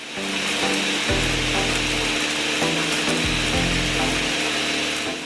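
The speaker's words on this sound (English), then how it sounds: "Place the seeds and cinnamon stick in a blender and blend for 30 seconds." A blender grinds seeds and a cinnamon stick, loud and close, with a motor whine broken by rhythmic rattling and chopping bursts as the hard pieces knock against the blades, with no talking.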